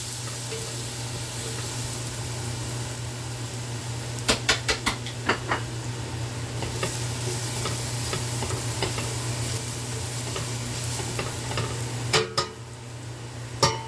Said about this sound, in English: Cook your garlic down a little bit.